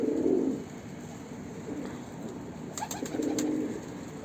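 Soft, low cooing of birds comes in two short bursts, close by, with faint outdoor background noise between them.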